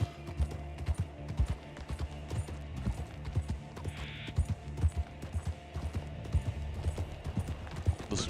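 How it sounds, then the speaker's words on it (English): Horse hooves clip-clop in the Red Dead Online video game, a steady rhythmic trot of close, soft thuds with faint ambient clatter around them. "beat of the horse hooves"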